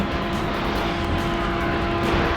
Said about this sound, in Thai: เครื่องบินทิ้งระเบิดเหรอตะกี้ทุกคนเห็นปะ